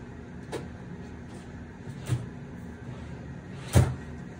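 A sticking IKEA drawer is tugged open in a few separate knocks and scrapes, the last one the loudest thud, heard close over a low steady hum with no talking.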